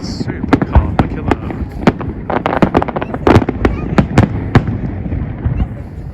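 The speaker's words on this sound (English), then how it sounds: "Fireworks down at Southampton Docks for the Cunard's departures." Fireworks go off at Southampton Docks for the departures of the Cunard ships Queen Victoria and QM2: a rapid, irregular run of loud sharp bangs and crackles over a busy background, with many bursts close together.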